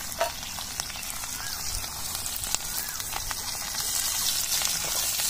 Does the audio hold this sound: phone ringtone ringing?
no